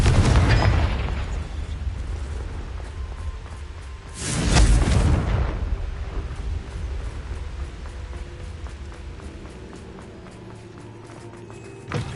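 A blasting spell goes off in Hogwarts Legacy as a deep, loud burst rolling out about halfway through, set over a constant rumbling game backdrop with a heavy low boom at the very start.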